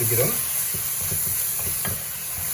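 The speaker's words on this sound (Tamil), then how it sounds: "வடிவாக கிளறி விடுவோம் இந்த மாதிரி கிளறி போட்டு" A spoon scrapes and stirs rooster curry with chili powder in a pot, producing soft rhythmic scraping strokes over a low, steady sizzle close by.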